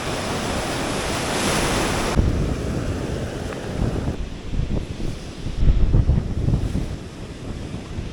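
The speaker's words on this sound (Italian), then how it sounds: "Vai Gianni, fai il tuo primo bagno nell'oceano." Ocean surf breaking on an Atlantic beach in Portugal, a loud continuous wash of waves with gusty wind buffeting the microphone, swelling toward the end.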